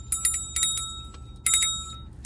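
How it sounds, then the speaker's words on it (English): A small decorative angel bell, a thrift-store find, rings in several light, bright tinkling shakes, close and clean with no voices over it. "So it's an angel bell."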